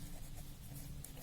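Writing on a board during a maths lesson, faint quick scratchy strokes repeating over a quiet low hum.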